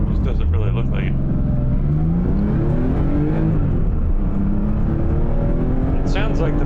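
Race car engine heard from a microphone inside the cabin, droning loudly and climbing steadily in pitch as it accelerates through the gears, with voices talking over it.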